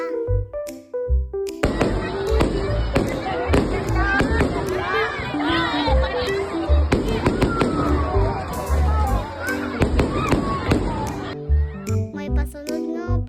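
Fireworks and firecrackers go off at an outdoor gathering, with sharp cracks and bangs popping in irregular bursts over a busy crowd of voices and chatter.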